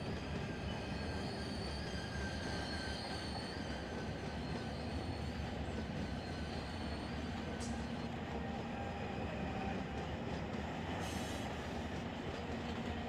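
A freight train rolling down a 1.5% grade on the Trona Railroad near Searles Valley Minerals in the Run 8 Train Simulator game: a steady rumble of wheels on rails with brief high wheel squeals, heard continuously.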